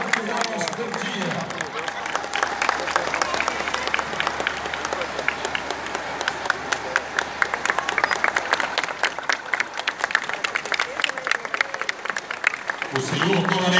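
Crowd applause and clapping at a September 7 Independence Day parade in Goiânia, Brazil, saluting the SAMU mobile emergency ambulance service; sustained, fairly loud clapping with crowd noise throughout, tapering near the end.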